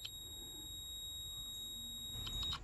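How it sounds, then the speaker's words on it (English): A multimeter in continuity mode beeps while probing the micro switch of a Pentair CVA-24 pool valve actuator, a thin steady high-pitched tone held for about two seconds, faint and alone, then briefly breaking up. "Hear the sound? That means there's continuity."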